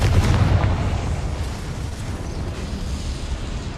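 A Confringo fire-blast spell from Hogwarts Legacy detonates in a deep, rumbling explosion that starts loud and booms out into a sustained low roar, with no speech over it.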